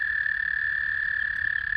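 Frogs croaking in early spring, the first of the season, a dense, steady high trilling chorus that continues unbroken, fairly loud, with no voices.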